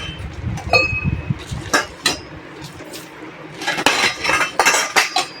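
Metal pots and vessels clink and clatter against each other in short, irregular knocks as they are packed into a thick sack-like bag, close by, with a few bright ringing taps.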